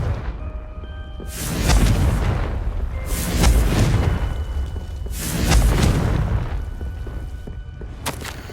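Confringo fire spell blasts in Hogwarts Legacy, a video game: a run of loud booming explosions with whooshing bursts, roughly one every two seconds, each rumbling deep before fading into the next.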